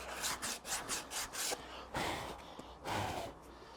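A horse's hoof is sanded with 120 grit abrasive, giving a run of short rasping strokes, rhythmic and close, several quick passes followed by a few slower ones.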